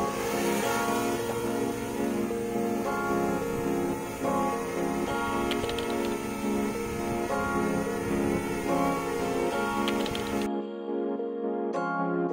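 Small DJI Mavic Mini drone carrying a GoPro Hero 8, a loud close steady high whine with layered propeller tones that hold evenly for about ten seconds before cutting out abruptly, no talk.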